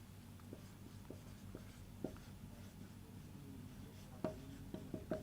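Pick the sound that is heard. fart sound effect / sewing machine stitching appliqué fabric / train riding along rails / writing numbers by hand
writing numbers by hand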